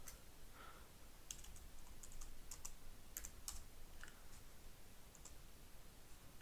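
A handful of quiet computer keyboard key presses click in a short irregular cluster, a Ctrl+V then M combination, faint and alone against a low background hiss.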